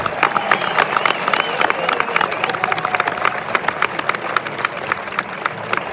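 A large crowd gives loud, sustained applause with some cheering at a cattle-cutting contest in a bullring in Mayorga, 2023. The clapping stays dense and close throughout.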